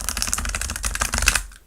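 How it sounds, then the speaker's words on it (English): A soft tarot card deck is shuffled up close, a rapid crisp run of riffling card clicks and flutters for over a second that fades out at the end, with no talking. "I love this deck because it's always so buttery soft as I shuffle."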